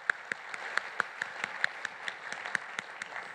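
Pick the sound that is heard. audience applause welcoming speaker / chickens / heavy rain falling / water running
audience applause welcoming speaker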